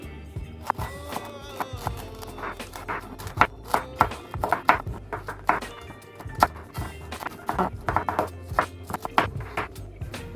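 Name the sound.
knife slicing food into thin slices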